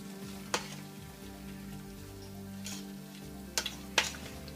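Ingredients for Zuppa Toscana soup stirred in a pot, with a steady sizzling bed of frying and a few sharp scrapes and clinks of the utensil near the end, no talking.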